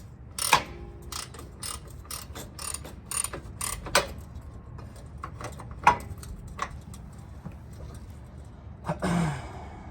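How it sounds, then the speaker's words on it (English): A ratchet turns a camber arm bolt on a Lexus LS400, giving quick irregular clicks and mechanical ticks close by, with occasional louder knocks and a faint breathy sigh. "we're going to continue to unscrew this side"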